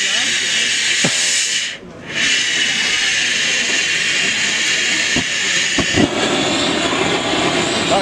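A 1937 Lanz Bulldog tractor engine runs steadily and loudly throughout, a continuous droning with broad hiss and a few sharp knocks, dipping briefly near the start before resuming.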